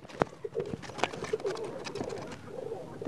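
Bukhara trumpeter pigeons in a breeding loft give repeated low, close coos in a steady murmuring rhythm, with a few sharper knocks and rustles mixed in.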